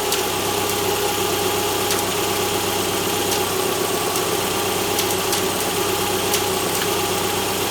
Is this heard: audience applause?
no